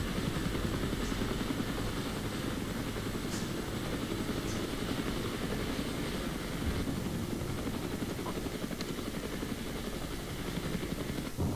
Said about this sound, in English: Got some more helicopters moving in.